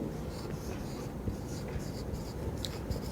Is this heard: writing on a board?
yes